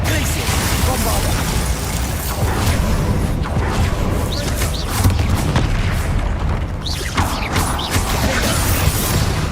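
Booming blasts and mechanical crunches from the Bombarda blasting spell in Hogwarts Legacy, loud and repeated amid dense combat noise, with spoken spell names over the explosions.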